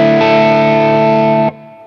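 An Asmuse foldable travel headless electric guitar through an ALP plays a crunchy, lightly distorted tone: a single loud chord struck and held for about a second and a half, then abruptly muted.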